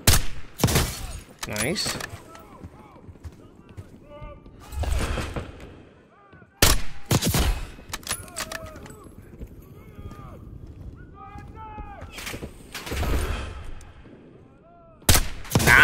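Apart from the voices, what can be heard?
gunfire in video game Call of Duty: Black Ops 6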